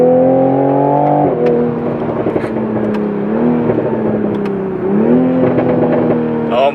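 A Toyota A90 Supra engine revving up and settling in several rising and falling sweeps, loud and close, with a deep tonal exhaust note.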